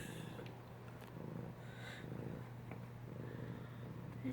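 A cat purrs steadily and close, a low continuous rumble that runs throughout with a few small snorts and sniffs on top and no talking.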